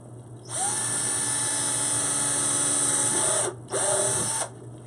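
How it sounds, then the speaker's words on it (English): An electric drill whines at high speed as it bores a small hole through a wooden MDF sign, two close bursts with a short pause between, the second one briefer. "drill a little hole in them"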